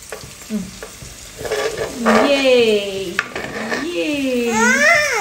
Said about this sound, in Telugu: ఇప్పుడు ఇంట్లో మనం కట్ చేసుకున్న టమాటాస్ని యాడ్ చేసేసేయాలి.